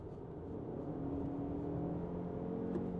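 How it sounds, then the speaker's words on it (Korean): Lexus RX350h hybrid SUV with four-wheel drive accelerating gently in EV mode, heard from inside as a soft, steady low whir and road rumble at moderate level, with no engine surge. "지금처럼 EV 모드에서 그냥 점진적으로 악셀을 올려도"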